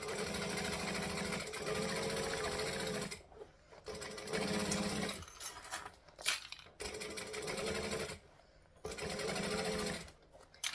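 A sewing machine runs in steady bursts as it stitches the seam of a fabric circle bag, humming and whirring loudly up close, with brief pauses and small handling clatter between runs.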